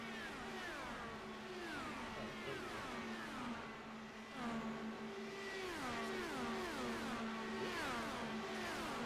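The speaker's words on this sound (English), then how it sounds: "it's just cars making noises, but some people like the noises of the cars." Race car engines in the iRacing sim game whine continuously, with repeated rising and falling pitch sweeps as cars upshift and pass, a steady moderate roar with no talk.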